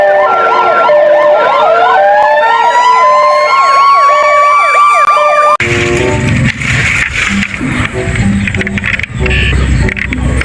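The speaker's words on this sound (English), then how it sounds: "Ambulance cars." A toy ambulance siren wails loudly and close up in rapid electronic hi-lo sweeps over a rising tone, then cuts off abruptly into a noisy, clattering jumble of toy sounds.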